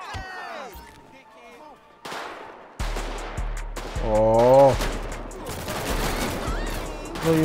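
Bursts of game gunfire in GTA 5, rapid cracking shots and automatic volleys close and loud, mixed with other game sounds and a brief voice.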